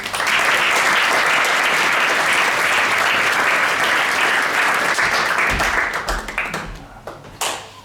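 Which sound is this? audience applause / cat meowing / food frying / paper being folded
audience applause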